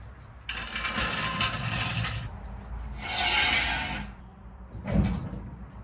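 A hand ratchet clicks away tightening the wheel lug nuts on a 1974 Ford Courier mini truck, with bursts of rapid close ratcheting and a sharper clank near the end, no talking.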